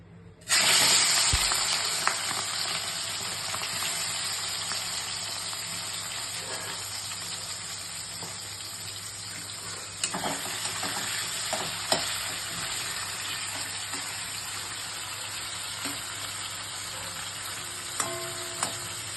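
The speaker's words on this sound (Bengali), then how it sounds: "তো অল্প আঁচে আমি মাছটা শ্যালো ফ্রাই করে নেব।" Prawns shallow-fry over low heat, giving a steady, soft sizzle and hiss throughout with a few faint clinks and stirring taps, no talking.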